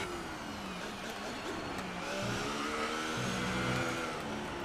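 Race car engine in the F1 2018 video game, revving high under sustained tire squeal as the car oversteers and is caught, a continuous moderately loud whine with shifting pitch and no talk.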